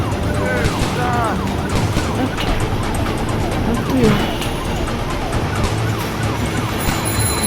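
Wailing police car siren in the video game Dude Theft Wars, its rising and falling sweeps running continuously over engine and traffic noise, loud and close.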